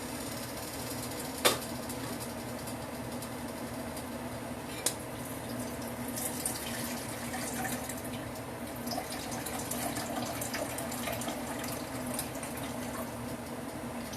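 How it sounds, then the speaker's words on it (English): Hot cooking grease from a batch of miniature Mexican shells drains steadily into a can, a continuous soft trickling hiss with a couple of brief clinks, close by and alone with no talking. "we're going to drain our grease off. Drain that into a can over here."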